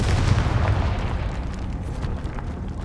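A Confringo explosion spell bursts in Hogwarts Legacy, giving a loud, dense blast with a heavy low rumble that rolls on steadily for several seconds, close and unbroken, with no voices over it.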